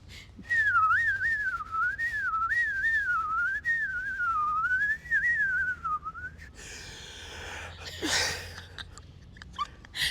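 Someone whistles a warbling melody, clear and close, for about six seconds, followed by shuffling and a brief breathy noise.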